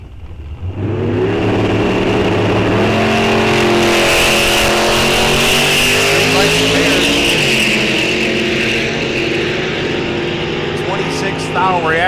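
Gen 2 and Gen 3 Camaros launch side by side in a bracket drag race at a raceway, engines roaring loud and near with rising whine as they accelerate hard, while an announcer talks over the sound.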